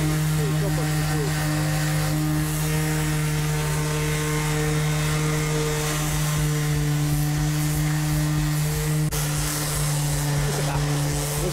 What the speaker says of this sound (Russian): Сейчас немножко пошлифуем, да?